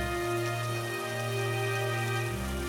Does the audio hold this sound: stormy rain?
yes